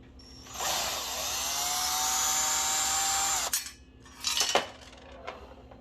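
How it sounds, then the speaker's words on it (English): The back plate of an Anchor full-motion TV wall mount is removed, with a steady whirring power driver for about three seconds followed by metallic clinks and rattles of screws and washers, close and alone. "let's get the back plate off"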